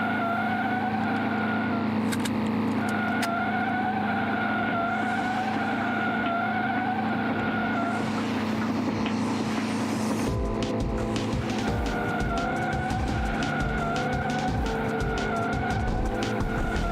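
Racing car in Forza Horizon oversteers into a corner, tires squealing in a long sustained skid over a steady engine drone, loud and close, with a rougher burst of tire noise and engine roar in the second half.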